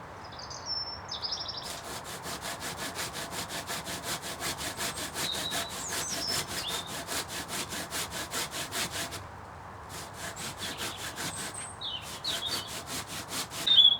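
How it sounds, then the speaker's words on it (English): A hand pruning saw cuts through a eucalyptus trunk in a Yorkshire garden with quick, even back-and-forth rasping strokes close by. The sawing pauses briefly and then resumes, with birds calling faintly in the background. "Didn't need the electric saw in the end to use that pruning saw, managed to get through okay."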